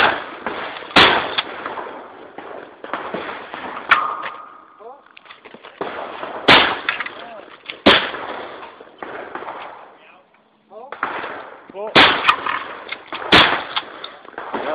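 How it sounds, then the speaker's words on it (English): Loud shotgun blasts fired from the waist at an outdoor shooting range, several sharp separate shots spaced a few seconds apart, with people talking between them. "I'm going to try to do some off-the-waist shooting"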